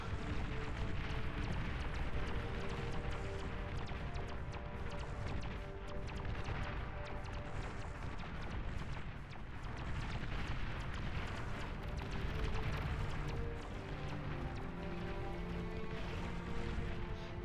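During a bombing run in a real-time strategy game, explosions rumble as a dense, continuous roar of blasts and crashes that stays loud throughout.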